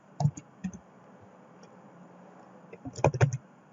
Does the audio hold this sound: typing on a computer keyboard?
yes